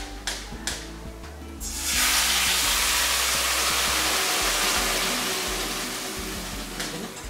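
Marinated stingray pieces go into hot mustard oil tempered with white cumin and erupt into a loud, close sizzle that starts after a few light knocks and holds steady, slowly easing.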